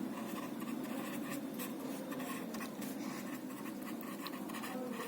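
Pen writing on paper during a maths worksheet explanation, a steady close scratching of continuous strokes with no talking.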